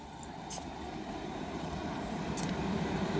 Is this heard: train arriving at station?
yes